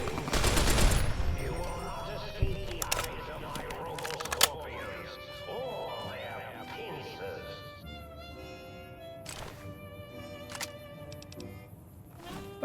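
AK rifle fire from lobotomites in Fallout New Vegas, a rapid burst of shots up front followed by scattered cracks and impacts over a busy game soundscape with music and effects.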